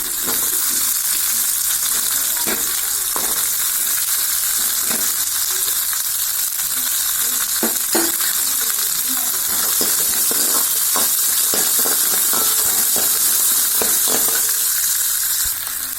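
Small onions sautéing in a pan for yaana vathakuzhambu, a steady broadband sizzle running the whole time with scattered clicks and scrapes of stirring, close and fairly loud, no talking.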